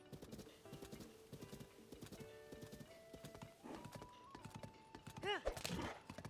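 A horse in the video game Zelda: Tears of the Kingdom gallops with quick, steady clip-clop hoofbeats, then lets out a loud whinny near the end, with a person talking throughout.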